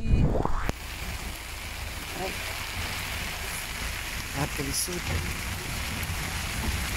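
Rain falls steadily in the countryside, a soft continuous patter with scattered drops, while a voice speaks briefly at the start over a short louder burst.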